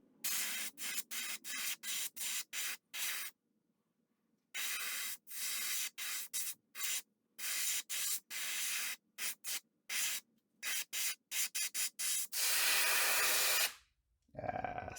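Pearlized white paint sprayed along the belly of a wooden stick-bait fishing lure: close, loud hissing bursts, many short evenly spaced puffs with brief gaps, ending in one longer continuous spray.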